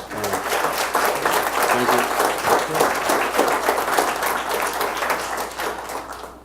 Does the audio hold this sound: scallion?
no